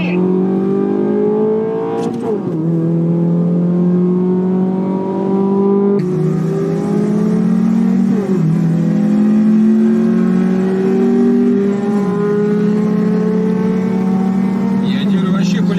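Sports car engine revving and accelerating through rising gear pulls, loud and continuous, with a gear change around two seconds and another near six, while people talk over it.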